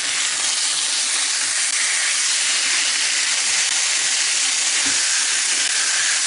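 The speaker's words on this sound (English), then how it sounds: "we're going to go ahead and sear it on both sides" Pork tenderloin searing in a cast iron pan gives a loud, steady broadband sizzle and hiss that runs unbroken throughout, close and with no voices over it.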